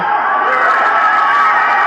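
Wrestling arena crowd roaring and cheering, a dense, loud, continuous wash of many voices yelling and whooping.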